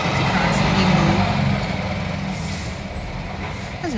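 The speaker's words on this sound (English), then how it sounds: "That's a beautiful truck." A truck's air brakes hiss loudly close by while its engine rumbles steadily underneath, and the noise then eases to a lower idle.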